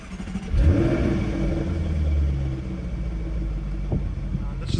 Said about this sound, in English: Let's go ahead and fire this beast up. We'll put our foot on the brake and press the start stop button here.